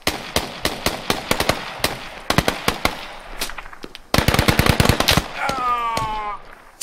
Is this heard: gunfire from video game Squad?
yes